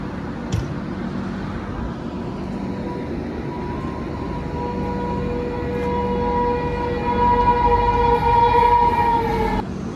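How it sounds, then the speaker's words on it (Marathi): A Konkan Railway train sounds its horn at Aravali Road station, one long sustained blast that swells louder toward the end, heard over station ambience with a sharp knock near the start. "ट्रेनने हॉर्न पण दिला आहे"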